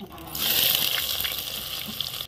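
Mustard seeds, fenugreek, curry leaves and onion sizzle in hot oil for a Tamil mochai bean and dried fish curry, a steady close hiss with faint crackles that starts abruptly and runs alone.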